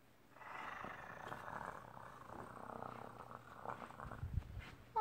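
A person imitates a cat purring with a low, rough, rumbling voice that is sustained and close but quiet, followed by a short sharper sound at the end.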